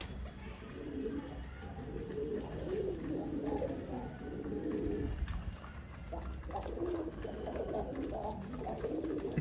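Soft, low pigeon coos repeat in rolling phrases over a steady outdoor background, moderately close and continuous throughout.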